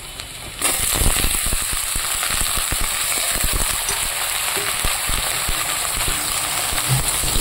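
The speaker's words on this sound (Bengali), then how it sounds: "এবার এটাকে আমি ভালো করে ফ্রাই করে নেব।" Onion, tomato and eggplant sizzling loudly in a hot oiled pan, a steady dense fry with crackling pops that starts abruptly and continues unbroken, close up with no talking.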